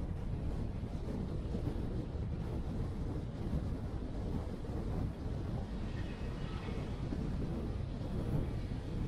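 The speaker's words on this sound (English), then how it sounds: "It's a bit windy." Steady gusting wind buffets the microphone throughout at Big Red dune in outback Queensland, a dense low roar with no pauses and no voices.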